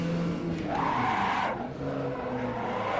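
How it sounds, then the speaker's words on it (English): A car's brakes lock up and the tires skid with a rising squeal over a steady engine drone, racing in the Assetto Corsa video game at Brands Hatch Indy, loud and continuous throughout. "I'm barely touching the brakes and they lock up."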